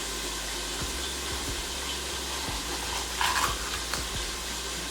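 Breakfast potatoes fry in a pan with a steady, even sizzle that hisses continuously at a moderate level, broken only by a few faint clinks and pops.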